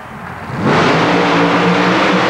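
Super modified mud racing car at an indoor coliseum revving its engine hard, a loud close roar that swells up abruptly and holds steady.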